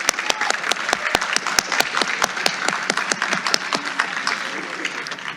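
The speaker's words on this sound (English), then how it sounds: "Can we get one more round of applause?" A room full of people applauding at a high school honor society induction ceremony, dense steady clapping throughout, fairly loud and close.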